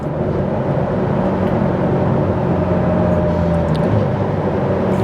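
A 2008 Ferrari 430 Scuderia in sport mode produces a steady, loud, continuous engine drone with a constant pitch, alone and without talk.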